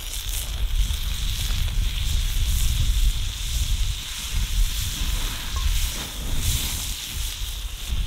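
Butter sizzles steadily in a hot pan over an outdoor camp stove, with a continuous crackling hiss that blends with wind and rain noise throughout.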